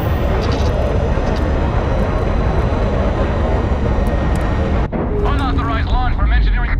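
A prototype spaceship launches in the video game Starfield with a loud, sustained roaring rush of engine thrust that fills the scene, then cuts to quieter whooshing and chirping sci-fi tones near the end.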